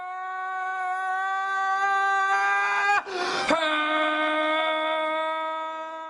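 A man screams in a long sustained wail from a played-back video, the pitch bending and breaking midway with a sudden harsh crack before the drawn-out cry resumes, loud and alone without other talk.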